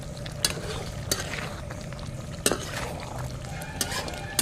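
Chicken masala with salt is stirred in a pan, the spoon turning it with a soft, steady scraping broken by several sharp clinks against the metal. No one speaks.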